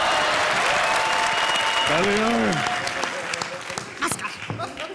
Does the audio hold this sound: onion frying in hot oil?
no